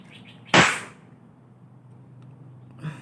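One sharp, loud crack of a cap gun pops once against a quiet background, followed by a faint click moments later.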